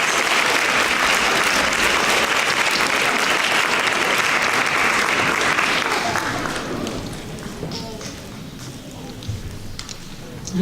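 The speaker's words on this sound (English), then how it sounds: "give all these kiddos a big round of applause" Applause for contestants at a school spelling bee: loud, dense clapping from the audience that thins and fades out after about six seconds, leaving scattered quiet claps.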